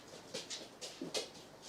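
A dog pants and whimpers close by in a kitchen, with short breathy bursts and soft whines coming in a few uneven pulses over quiet background.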